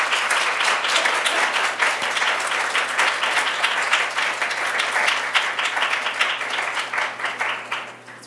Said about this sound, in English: Let's give all of our speakers another round of applause